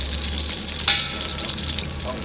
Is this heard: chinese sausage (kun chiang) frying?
yes